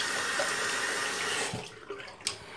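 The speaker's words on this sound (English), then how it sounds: "Oh, I'm gonna rinse my hands off." Tap water running over hands at a sink, a steady hiss and splash that stops about halfway through, followed by a few faint drips and small handling noises.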